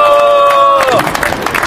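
A crowd at a candlelight protest rally against the Korea-US FTA breaks into applause and some cheering, rising after a sustained amplified tone fades, loud and close, welcoming a speaker.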